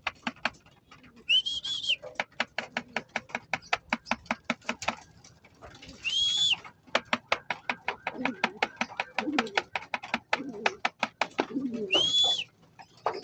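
Pigeons cooing inside a loft, with repeated rhythmic wing flaps and pattering throughout and a few brief whistling calls, close and fairly clear while birds enter at feeding time.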